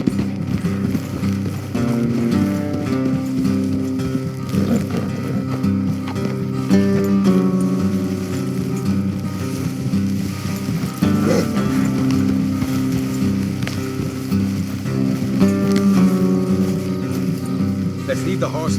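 Several horses' hooves clip-clop steadily on a road in Red Dead Redemption 2, a continuous trotting rhythm under game music and riders' talk.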